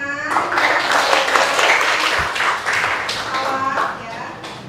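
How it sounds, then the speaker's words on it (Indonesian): A classroom of students clapping together, a lively burst of applause that swells and fades over several seconds with voices mixed in. "Ya, tepuk tangan."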